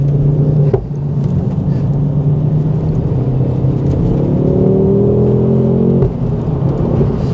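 Engine noise from a Ford Focus RS MK2 being driven hard, a loud, steady in-cabin drone that rises in pitch as it accelerates, with a brief dip near the start and another shift toward the end.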